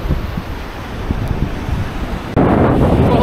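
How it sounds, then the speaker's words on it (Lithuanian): Strong wind blows across the Latvian seashore during sea fishing for flounder, roaring and buffeting the microphone in a loud, continuous rush that grows harsher near the end, with no voices. "Vėjas nuputė."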